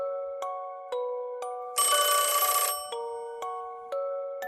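Mobile phone ringtone for an incoming call: a repeating electronic melody of short tonal notes roughly every half second, broken midway by a dense, bright burst of ringing, clear and alone with no talk.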